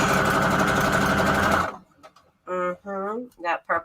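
A sewing machine runs a straight stitch on fabric tags for a junk journal, a loud close steady whir for about a second and a half that then stops, followed by someone talking.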